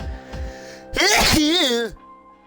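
A single loud, drawn-out sneeze with a rising voiced wail, preceded by quieter breathy sounds and followed by near silence.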